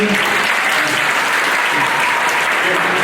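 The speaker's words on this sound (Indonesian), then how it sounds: "tepuk tangan untuk semuanya" A church audience at an anniversary celebration breaks into dense, continuous applause, many hands clapping steadily throughout.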